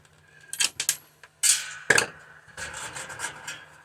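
Side cutters prying spring-type washers off the motor of a scrapped milkhouse heater make a run of sharp metallic clicks, scrapes and taps, close and fairly loud, with one distinct snap partway through.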